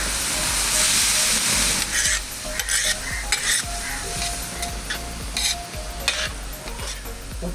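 Small onions sautéing in sesame oil with ginger-garlic paste for Kerala-style fish pollichathu, a loud continuous sizzle and hiss broken by repeated scraping stirs of the spoon against the pan.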